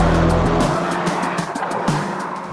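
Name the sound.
Renault Megane RS hot hatch driving on track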